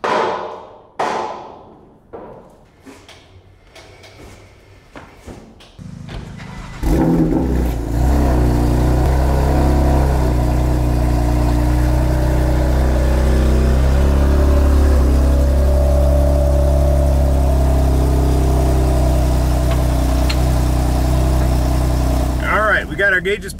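A BMW F80 street drift car cranks after a few clanks and thumps, then settles into a loud, close idle with a steady low drone and occasional revs toward the end.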